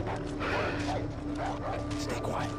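A dog barks and yips in Far Cry 3, several quick barks over game ambience with a voice talking alongside.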